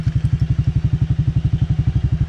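Honda Click 125 V3 scooter engine runs with a steady, rapid low thumping pulse close by, loud and even throughout without voices.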